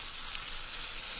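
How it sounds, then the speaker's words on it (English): Vinegar hits a hot pan with sugar and sizzles, a faint steady hissing crackle. "And now I'm going to put 3 tablespoons of vinegar."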